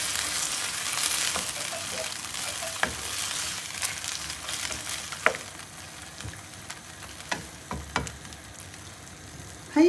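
Vegetables and sweet and sour sauce sizzle steadily in a pan while a utensil scrapes and clicks against it every few seconds as it is stirred, close and fairly loud.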